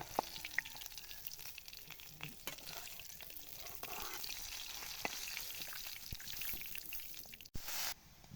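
Turmeric- and salt-coated hilsa fish frying in oil, a faint crackling sizzle with scattered pops and a few clicks, distant and quiet.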